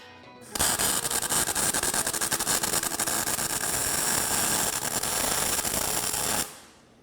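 An overheated weld bead being run with the heat cranked too high: a loud, steady crackling hiss that starts abruptly, holds for about six seconds, then cuts off.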